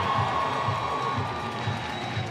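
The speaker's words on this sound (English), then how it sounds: "the players deserve a resounding round of applause, which they get" A stadium crowd at a Banana Ball game between the Staten Island FerryHawks and the Savannah Bananas cheers and applauds the players, a continuous roaring wash of voices with a few whoops, fairly loud and sustained.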